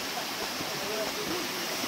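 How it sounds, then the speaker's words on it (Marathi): A small waterfall makes a steady broadband rush of falling water, heard up close and continuous, with faint voices underneath. "तुम्ही छोटासा धबधबा पाहू शकता."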